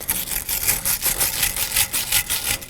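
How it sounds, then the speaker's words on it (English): Stiff wire brush scrubbing the inlet of a rear wheel hub on a 2013-2019 Nissan Sentra, heard as a close, steady run of quick rasping back-and-forth strokes with no talk. "And now for the inlet. I'll be using a wire brush as well."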